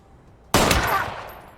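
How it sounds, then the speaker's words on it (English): A sudden loud burst of gunfire in a Balkan war film scene erupts after near silence, a sharp crack followed by a short rattling decay. "until finally Milik was shot by Smuk"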